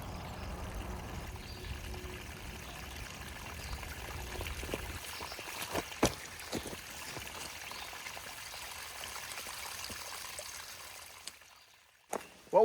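Soft, steady trickle of water at a spring along the Tuscarora Trail, faint and continuous, with a few scattered knocks and clicks and a sharper bump near the end.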